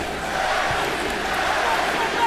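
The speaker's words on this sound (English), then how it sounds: "The chant you hear is Manny, Manny, Manny." Boxing arena crowd at Manny Pacquiao vs Timothy Bradley, chanting "Manny" in a steady, continuous roar that fills the space throughout.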